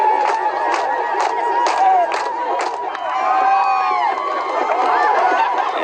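A crowd in Eritrea cheers and chants in rhythmic bursts, led by the U.S. and Canadian ambassadors. The shouting voices are close and loud, followed by sustained ululating cries.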